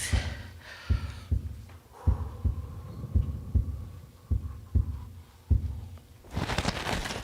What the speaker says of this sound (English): Just my heart pounding.